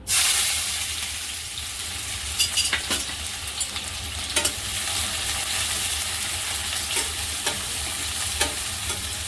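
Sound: onions frying in hot oil

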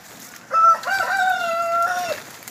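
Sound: chickens on a farm, rooster crowing

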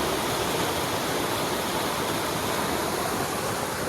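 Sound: flowing floodwater

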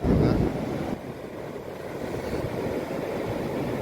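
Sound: sea wave washing up on the beach

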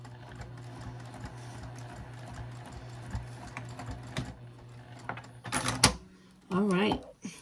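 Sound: sewing machine basting stitches on a zipper pouch

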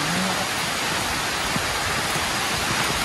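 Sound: heavy rain at a lake resort

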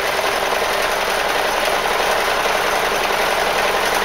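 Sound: sewing machine stitching a trouser belt

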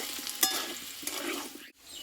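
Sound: potato pieces frying in oil

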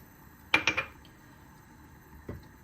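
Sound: rice cooker pot being taken out and washed

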